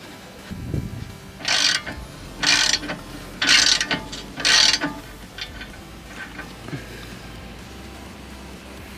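Ratchet wrench fitted with a 21 mm socket and long extension turning a nut on an Alfa Romeo 159 front hub, several close bursts of rapid clicking separated by short pauses, with quieter mechanical knocks between.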